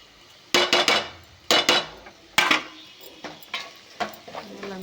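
A spoon scrapes and clinks against a pan while sesame and coconut powder are mixed into capsicum fry, giving several bright metallic strokes in quick clusters, then lighter intermittent taps.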